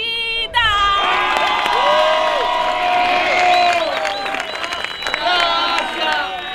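A crowd at an Argentine plaza freestyle rap battle applauds and cheers, with shouts and whistles rising above steady clapping, loud and close.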